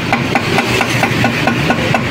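Repeated hammer blows pound on the CVT parts of an Easyride TVX 150 Motorstar motorcycle, roughly eight sharp metallic strikes in a steady rhythm, loud and close, with no talk over them.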